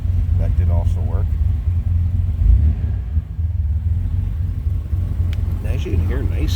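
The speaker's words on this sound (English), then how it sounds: "And as you can hear, nice sound. The car runs smooth." A 1985 TVR 280i convertible's 2.8 liter Bosch fuel-injected V6 idles smoothly with a steady low rumble, close by, as someone talks over it.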